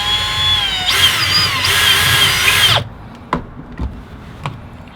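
A power drill whines loudly for about three seconds while enlarging a hole for a diesel heater install, its pitch wavering under load. It then stops, followed by a few sharp knocks and taps.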